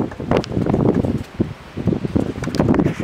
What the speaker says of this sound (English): This wind is gonna be terrible